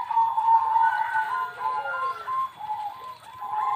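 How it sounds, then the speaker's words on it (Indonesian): A white Majapahit zebra dove (perkutut) coos in a soft, rolling series of trilled notes, close and clear with no other sounds. "Perkutut putih Majapahit."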